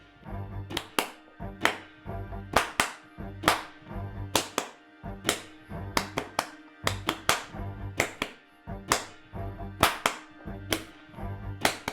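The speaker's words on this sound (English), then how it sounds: "Just join in as soon as you can, but just clapping." Hand claps in a rhythm exercise, with sharp, crisp claps grouped into repeating syncopated patterns separated by short pauses, close and clear without talk.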